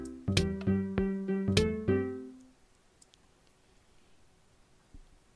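Minecraft noteblocks play a short plucked melody, about two seconds of bright repeated notes and chords, then silence apart from a faint click.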